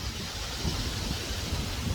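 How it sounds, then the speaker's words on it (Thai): Rain and thunder close in during a thunderstorm outdoors: a faint, steady wash of rainfall and wind with low rumbling underneath and no voices. "มืดมาแล้วครับฝน ฝนไล่ครับ ดำผีเลย ฝนมาแล้ว"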